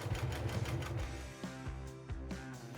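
A Janome HD9 sewing machine stitches through thick layers of denim, making a quick, even mechanical chatter at first, then slowing into a few separate heavy needle thumps, close up and fairly quiet.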